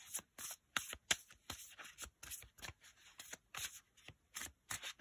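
Tarot cards being drawn and handled during a reading, a steady run of close, crisp card flicks and shuffling rubs, each short and papery, repeating quickly and evenly for several seconds with no talking over them.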